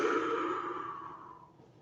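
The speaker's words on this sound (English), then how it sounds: "and then exhale" A single deep exhale, a long breathy whoosh close by that starts strong and slowly fades over about two seconds, with no talking.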